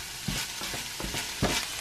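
Beef fries in a pan for a noodle casserole, giving a steady close sizzle with rhythmic scraping as it is stirred about four times.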